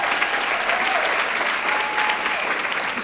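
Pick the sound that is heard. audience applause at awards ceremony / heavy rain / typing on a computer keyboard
audience applause at awards ceremony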